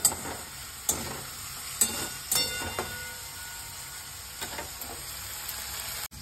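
Masala with tomato ketchup stirred and frying in a pan, a soft steady sizzle broken by several sharp spoon scrapes and clanks against the pan, close by with no talk.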